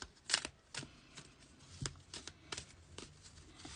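Tarot cards shuffled for a reading, a close, steady series of soft riffling slaps and card flicks repeating every fraction of a second over a light hiss.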